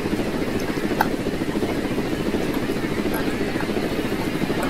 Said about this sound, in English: Okay, now drone, let's go, drone.